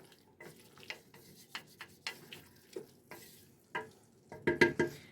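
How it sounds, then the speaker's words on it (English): Meat and onions browning in a soup pot are stirred with a utensil, making repeated scraping clacks over a soft, steady sizzle, with louder, quicker stirs toward the end. "Just going to go ahead and get it stirred up with these onions and make sure that meat's good and browned"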